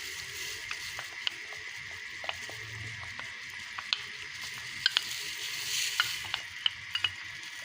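A spoon stirs cornflour mixed with milk, making light, irregular clinks and taps against the bowl over a faint steady background hum.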